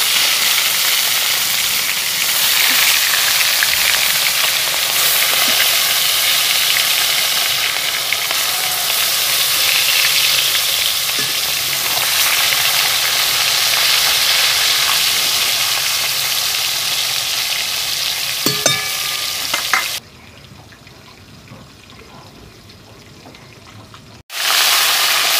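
Rui fish coated in salt and turmeric frying in oil, a loud dense continuous sizzle and hiss close by that cuts off abruptly near the end, then a brief quiet gap before sound returns.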